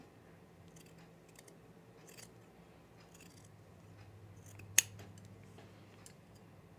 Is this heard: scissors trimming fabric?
yes